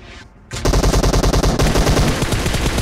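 M4 rifle fire in a shooter video game: after a short quiet lead-in, a loud, close, steady automatic burst of rapid evenly spaced shots, with no voices.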